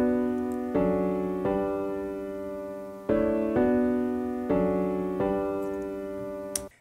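A piano plugin plays a series of about six sustained chords in even succession, each struck cleanly and left to ring and fade before the next, with no voices.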